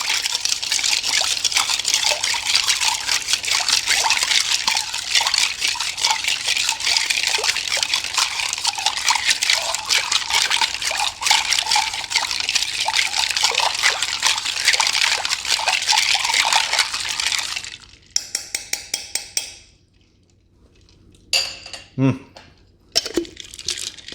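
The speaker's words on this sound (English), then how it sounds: "We are going to stir this guy for about 20 seconds." A martini is stirred with ice for about eighteen seconds, a dense continuous sloshing and rattling that stops abruptly, followed by a few scattered clinks and knocks.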